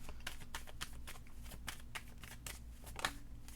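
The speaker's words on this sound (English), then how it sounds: "One more shuffle." Tarot cards being shuffled by hand, a rapid run of crisp riffling flicks and taps at close range, fairly quiet, with no voice.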